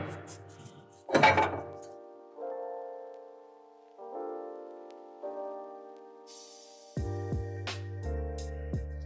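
Metal firebox pieces from a Sculpt fireplace are set back into place one after another, giving several clanking, clinking knocks with ringing metallic tones, one louder scrape early on and a cluster of sharper bangs near the end.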